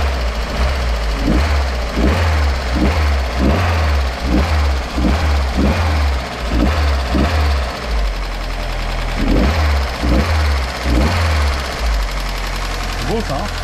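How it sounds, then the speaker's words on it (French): Restored Lancia engine running with its accelerator worked, a loud close idle broken by a string of regular revving bursts, then more throttle blips; someone talks over it. "tu vois ton moteur tourne, là tu as ton accélérateur."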